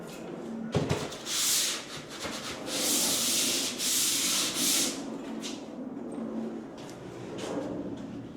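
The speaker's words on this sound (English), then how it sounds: "So you've only just gone over that with the sander? With the Festool" A Festool sander works over drywall in steady passes, its broad hissing abrasion swelling and fading several times, close and fairly loud, with a few light knocks and handling sounds between strokes.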